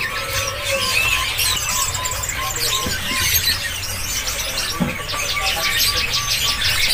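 Shrill, squeaky calls of jongkangan birds at a bird-selling kiosk chirp repeatedly over a steady background hum, close by and fairly loud, in quick overlapping bursts.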